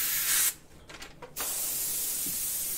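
Airbrush spraying paint onto a scale model forest-floor scene, a close steady hiss that cuts out for under a second with a few small mechanical clicks, then resumes and runs to the end.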